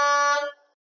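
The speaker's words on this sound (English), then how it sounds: "the evacuation alarm, which is a loud air horn" A single loud, brassy air horn blast used as an evacuation alarm at an industrial facility, cutting off abruptly and ringing out briefly, with nothing else around it.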